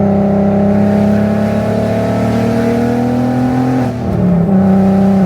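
A VW MK6 with a swapped R36 3.6 VR6 and 4Motion revs hard and steady near the limiter, a loud sustained engine drone that drops briefly near the end before climbing again.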